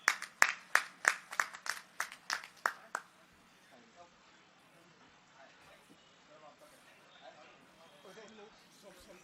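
Applause at a gathering at a party headquarters honoring a guest with a shawl, a short run of about nine sharp, evenly spaced hand claps up close, then a quiet room with faint voices.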